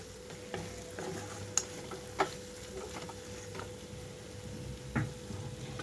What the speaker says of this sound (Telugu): లో ఫ్లేమ్లో ఉంచి వేయించుకుంటే సరిపోతుంది.